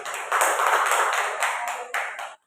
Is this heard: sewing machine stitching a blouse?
no